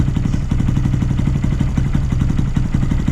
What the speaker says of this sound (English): Definitely sounds like we've got an exhaust leak